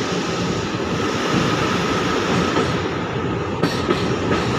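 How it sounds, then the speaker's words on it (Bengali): The 03466 Digha–Malda Town special train runs at speed toward Malda Town at night, a loud, steady rolling rumble with faint wheel clatter throughout and no voices. "আমাদের ট্রেন ছুটে চলেছে মালদা টাউন স্টেশনের দিকে"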